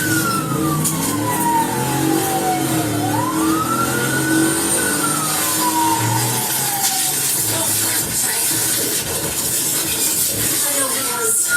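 A car engine revving and pulling away at an emergency scene, a loud steady motor drone throughout while a wailing siren rises and falls over it.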